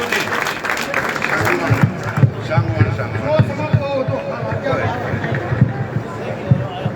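Steady applause from a crowd at an outdoor political rally, continuous clapping with a babble of voices and speech mixed in throughout.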